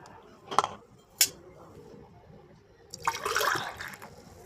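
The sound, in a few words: soup being poured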